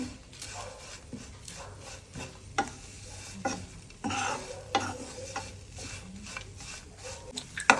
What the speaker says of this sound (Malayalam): ദേ ഉണക്കയിറച്ചി ഫ്രൈ ആക്കിയത് ഇങ്ങനെയാണ്